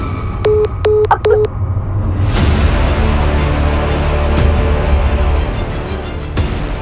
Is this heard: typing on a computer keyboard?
no